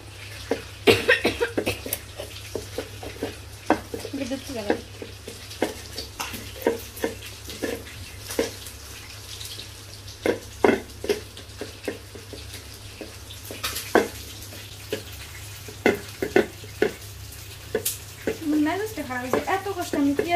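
Onions and dried chillies fry in a pan with soft, steady sizzling, broken by frequent clinks and scrapes of stirring. A voice is heard now and then over the cooking.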